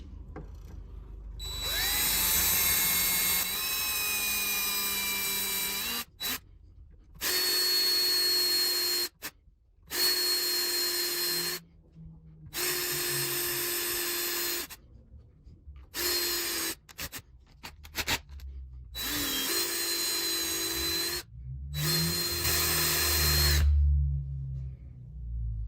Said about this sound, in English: I'm gonna just drill it out a bit.